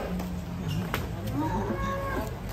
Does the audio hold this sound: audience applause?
no